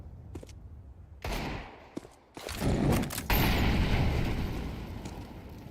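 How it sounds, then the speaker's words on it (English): An incendiary grenade tossed into apartments during a competitive tactical shooter match, heard as a sharp pop followed by loud, roaring bursts of fire and blast-like noise that swell and sustain, with a few brief clicks beforehand. "just tossing an incendiary into the apartments there"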